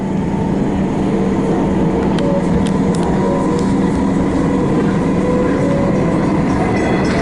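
Interior rumble of a train on Melbourne's Upfield line, a steady loud low drone of wheels and motors with faint rattles and a few clicks, no talking.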